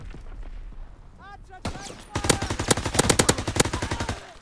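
Rapid automatic gunfire in the World War II shooter Call of Duty WWII, online multiplayer: a dense burst of loud, closely spaced shots in the second half, preceded by quieter game noise.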